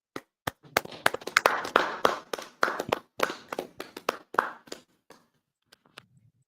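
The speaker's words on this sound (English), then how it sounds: "Y'all clap it up, Baba Kashar." A small group of people clap by hand indoors, sharp separate claps that build into a brief uneven burst of clapping and then thin out to a few scattered claps before fading to quiet.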